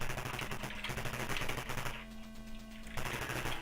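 Rapid electronic gunfire from the Commando video game on the Atari ST rattles in dense, continuous bursts with a short lull in the middle, played alone without talk.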